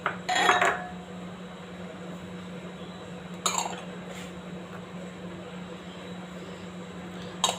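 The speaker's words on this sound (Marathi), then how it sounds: "सगळ्यात आधी आपण या बाउलमध्ये जे आपण डेसिकेटेड कोकोनट घेतले 3 बाउल ते टाकून घेऊया" Desiccated coconut tipped from small bowls into a larger bowl, a few brief scraping clatters of bowl on bowl separated by quiet stretches over a steady kitchen hum.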